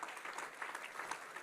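Brief, dense clapping from a church congregation praising in worship, a fairly faint, steady patter of many hands.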